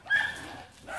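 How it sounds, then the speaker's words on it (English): A guard dog barks once, a short sharp yip heard at moderate distance, alone. "They got guard dogs."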